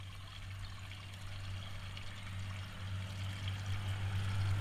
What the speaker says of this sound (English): So what I'm doing is just adding water to the current antifreeze to dilute it